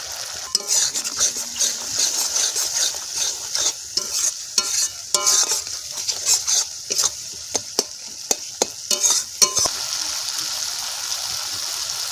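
Spices with salt and turmeric stirred and fried in oil in a pan for a fish curry, with steady sizzling broken by repeated scraping strokes of a spoon, close and moderately loud.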